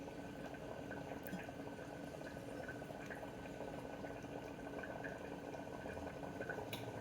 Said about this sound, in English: You can hear the bubbling.